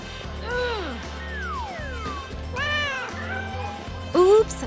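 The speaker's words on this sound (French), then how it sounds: "Oups, désolé le chaton." A cartoon kitten meows several times in rising and falling high-pitched cries over a layer of background music, ending with a louder short mew.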